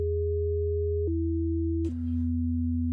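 A steady low sine tone holds while a second pure tone above it steps down twice in clean jumps, settling into a sustained electronic fifth interval with a brief burst of noise at one change.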